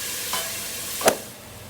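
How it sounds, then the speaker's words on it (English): Garlic frying in hot oil in a pan for rapini pasta, a steady close hiss with two brief louder crackles or stirring scrapes, no voices. "we're just going to want to start to fry up the garlic"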